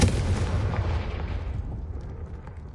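Confringo fire spell cast in Hogwarts Legacy on PS5: a loud fiery blast with a booming low rumble that fades away over about three seconds, with no voices.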